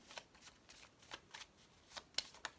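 Tarot cards being shuffled during a horoscope card reading, a quiet run of soft, papery riffles and flicks recurring every half second or so, with a couple of sharper snaps near the end and no voices.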